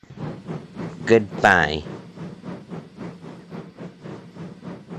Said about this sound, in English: I have to go pull a train